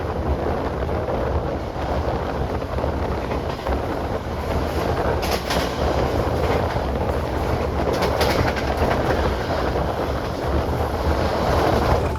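Steady rumble of the Serayu passenger train rolling into Pasar Senen station, Jakarta, with continuous rail and wheel noise and a broad wash of mechanical sound throughout.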